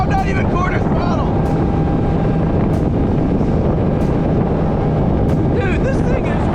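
A 175 hp outboard motor pushing an 18-foot bay boat at speed, a steady loud engine drone mixed with rushing water and wind buffeting the microphone, unbroken throughout.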